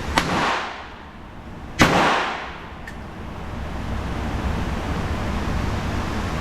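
Gunfire outdoors from a firearm being shot by a first-time shooter: two loud sharp reports about a second and a half apart, then a fainter crack, each ringing out and fading into steady background noise.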